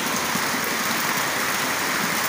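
Rain falls on the Pernambuco coast of Brazil as a dense, unbroken hiss, close and loud throughout with no voices.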